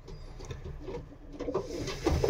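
Pigeons coo softly inside a loft, with low murmuring calls, some rustling and a few brief sharper sounds that build toward the end. No one speaks.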